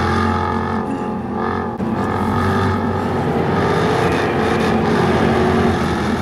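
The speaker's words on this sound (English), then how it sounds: "Fantastic exhaust note." A loud, steady engine roar from a Jaguar XKR-S sports car exhaust with active valves, droning continuously and close by with no talking.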